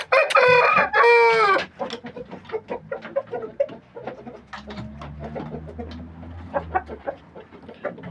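Several roosters of a Korean breed crow loudly up close, two long harmonic calls opening the scene, followed by a dense mix of clucking, chirping birds and scattered fowl calls with a low hum underneath.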